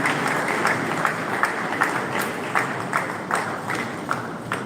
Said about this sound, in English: Another round of applause for the Honorable Chairman of the Commission.